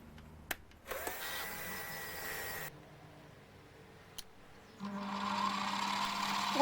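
Milling cutter on a machine being used to make a modified Gingery dividing head, whining steadily, stopping, then starting again with a higher pitched hum, with a couple of sharp clicks in between.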